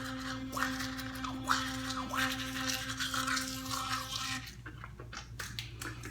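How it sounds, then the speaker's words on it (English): Close, scratchy toothbrush strokes on teeth, rapid back-and-forth brushing over a steady hum, continuing throughout with a slight change in texture near the end. "after I rinse, before I floss, I will pre-brush"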